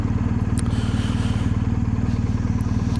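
Motorcycle engine held on the throttle through an upshift while touring from Fife to John O' Groats, a steady close droning exhaust pulse with a loud rhythmic beat and no break in the note.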